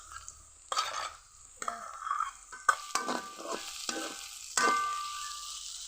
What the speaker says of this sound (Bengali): গ্রেট করা আদা, রসুন, কাঁচামরিচ কুচি। হালকা ভাজা ভাজা করে নিব।